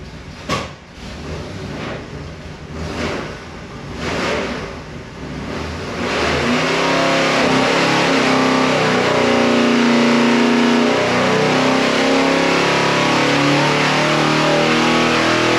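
A car engine on a dyno, starting with uneven blips and revs before climbing into a sustained loud, rising roar at high RPM, very close and continuous to the end.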